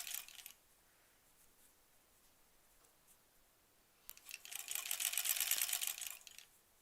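A domestic sewing machine stitches a quilt block seam for a granny squares quilt, a short whirring burst at the start, then quiet, then a longer steady run of needle clatter, close and fairly soft.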